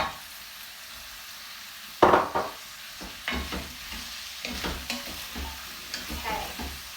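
A spoon stirs aubergines and peppers frying for cashew nut stew. After a quiet start, a sharp clatter breaks in, followed by repeated scraping and sizzling strokes at close range.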